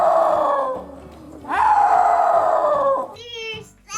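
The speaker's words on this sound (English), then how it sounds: "They make a high-pitched yowl that is so loud and piercing, it may be heard over a roaring river." A snow leopard gives loud, piercing, high-pitched yowls, two long drawn-out wailing calls close to the listener, followed by a brief wavering cry at the end.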